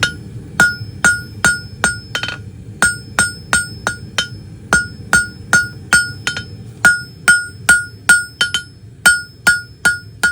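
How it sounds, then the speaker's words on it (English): Hot mild steel taper being hammered on an anvil while forging a basic hook, a rapid series of sharp ringing metallic strikes in a steady rhythm with brief pauses, close and loud. "Okay, so now we're just going to keep working that taper back."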